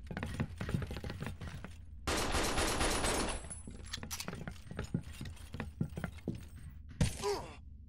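Gunfire in the shooter Binary Domain comes as sharp, irregular single shots and one dense rattling burst, with metallic clanks and impacts in between, moderately close.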